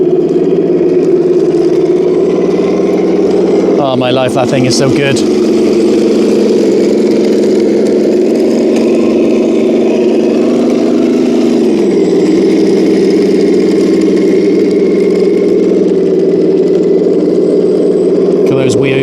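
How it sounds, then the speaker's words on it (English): A radio-controlled King Tiger tank model drives and turns, its steady electric motor hum running continuously close by with a brief clattering burst partway through, likely from the tracks, while a person talks excitedly over it. "I can hear the sound of the tracks as well"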